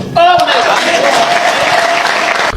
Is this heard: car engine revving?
no